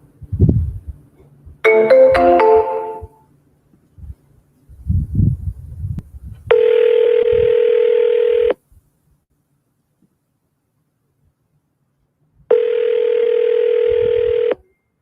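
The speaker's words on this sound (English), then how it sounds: "Let's just hop on the phone with him and see what he says." Telephone dial tone on a call placed to a home owner: two long steady tones, each about two seconds, separated by silence, following a brief burst of button beeps and some low handling noise.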